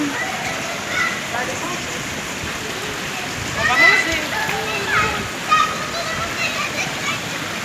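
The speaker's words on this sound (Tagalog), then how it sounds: "Meron pa yung fountain." A small fountain in a shopping mall splashes steadily with a constant watery hiss, while people talk over it nearby.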